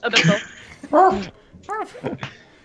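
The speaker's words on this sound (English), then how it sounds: "he barks twice" Short barking sounds during a tabletop Dungeons & Dragons session: several quick, loud, voice-like yelps close by, mixed in with people talking around the table.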